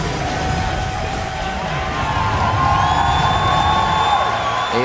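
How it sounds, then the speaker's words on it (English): An arena crowd of esports fans cheers and whoops after Team Solo Mid wins a playoff game of League of Legends, a steady loud roar that swells slightly partway through and carries on without any commentary over it. "The fans cheering behind them."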